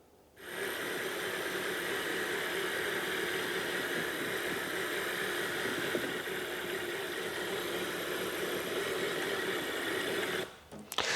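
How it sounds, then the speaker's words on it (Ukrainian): A Mazda CX-5 or Ford Escape engine idles steadily at close range with an even, buzzing hum. It starts after a brief quiet moment and cuts off near the end. "у нас є відео роботи двигуна"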